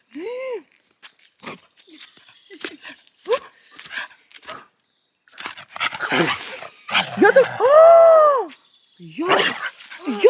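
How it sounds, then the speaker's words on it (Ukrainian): A young dog, about seven months old, whimpers and yips in short high whines, then gives a few louder barks and a long whining howl, close by, with people talking in between. "Молодий пес."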